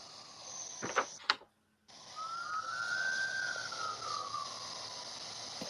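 A siren wails in the distance, one long rising and falling tone that holds for several seconds after a couple of brief knocks and a short silence.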